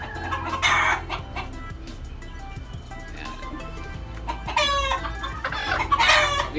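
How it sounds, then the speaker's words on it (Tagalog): Young stag roosters crow and cluck close by on a backyard farm, with several loud crowing bursts over a bed of softer clucking and clutter. "Tapos mag-iingay yung dalawang stag natin"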